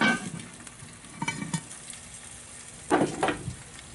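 Fish fry in a Dutch oven under Seminole Swamp seasoning with top heat for a shore lunch, giving a soft steady sizzle broken by a few louder crackling bursts and faint stirring, close by with no talking.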